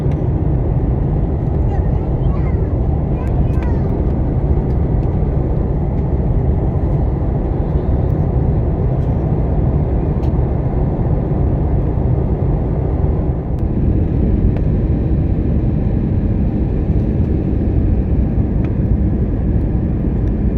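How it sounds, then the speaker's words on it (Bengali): Steady, loud, low cabin roar inside an airliner descending to land over Sri Lanka, droning on without a break, with voices faintly over it. "আমাদের বিমানটি এখনই ল্যান্ড করবে"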